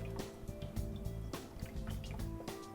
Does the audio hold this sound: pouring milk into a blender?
yes